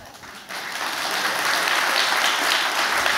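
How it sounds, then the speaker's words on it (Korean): A studio audience on a Korean talk show breaks into applause, starting quieter and swelling into a loud, sustained clapping that fills the rest of the moment. "아니 그게 박수 칠 일은 아니죠"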